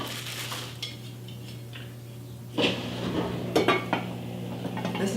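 Curtis Stone cookware metal lids and pans clink and clatter a few times close by, with a low mechanical hum running steadily underneath.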